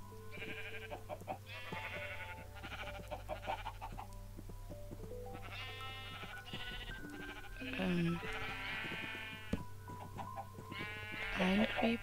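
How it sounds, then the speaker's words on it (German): A flock of blocky sheep bleat over and over in the Minecraft video game, with clear, fairly close calls overlapping in quick succession across the whole stretch. "Unglaublich viele Schafe und Hühner."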